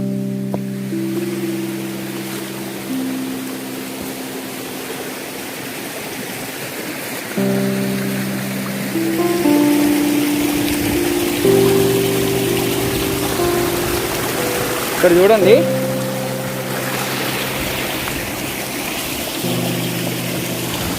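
Raikal waterfall pouring steadily over rocks, a loud, continuous rush of water close by for the whole stretch, with voices talking over it at times.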